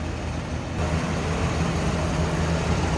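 A stock 1981 Chevrolet Camaro Berlinetta idles smoothly with a steady, continuous low rumble close to the microphone, with no talking.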